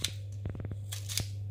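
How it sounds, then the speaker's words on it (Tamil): Okra for a Sri Lankan Jaffna-style milk curry is sliced with quick, crisp cuts, a short run of snips repeated in a brief cluster over a low steady hum. "நான் இப்போ மீதி இருக்கிற வெண்டைக்காயையும் இதே மாதிரி கட் பண்ணி எடுத்துட்டு"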